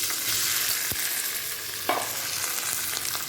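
Chopped watermelon rinds hit hot oil and fry with a loud, continuous hiss, broken by a few short stirring scrapes and knocks against the pan, with no voices.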